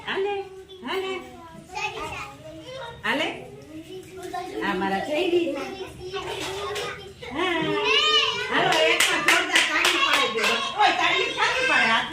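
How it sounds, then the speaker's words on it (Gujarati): A group of young children claps hands in quick, uneven bursts, close by, mixed with their chatter and excited voices. The clapping grows louder and denser toward the end. "તાળી પાડે બધાય"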